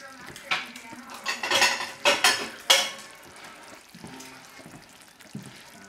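Cooked chicken thighs with picholine olives are lifted onto a plate with a series of close clinks and scrapes of cutlery against crockery and a pan. The clatter comes in bursts and then fades to a soft sizzle.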